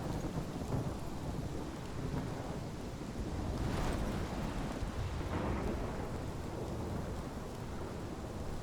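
Thunderstorm in the Life is Strange video game: steady heavy rain hiss with deep rolling thunder swelling around the middle, continuous and loud with no voices.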